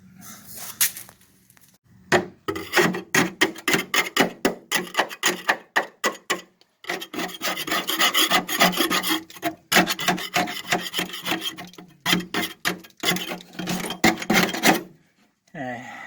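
Rapid rasping strokes of a scraper peeling undercoating off the bare body metal of a 1966 Dodge Dart GT barn find, close and loud in quick bursts with brief pauses, no talking.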